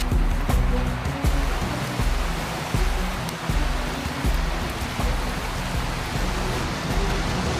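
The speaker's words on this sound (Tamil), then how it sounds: "ஓ, இது ஒரு நீர்வீழ்ச்சி." A huge waterfall in the high mountains of the Sierra Nevada del Cocuy in South America gives off a steady, loud, broadband roar of crashing water, with deep rumbling surges pulsing through it continuously.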